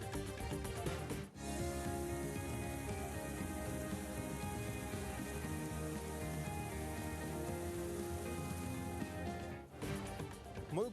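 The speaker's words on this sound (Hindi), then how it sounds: "मुल्क भर में बारिश का स्पेल, इस्लामाबाद, रावलपिंडी, लाहौर, फैसलाबाद, सक्खर, खैरपुर में जल थल एक हो गया।" Steady monsoon-season rain falls in Pakistan amid widespread flooding, making a continuous dense wash of drops on surfaces. It stays loud and even, with a brief dip near the start and another near the end. Tonal music-like bands run underneath.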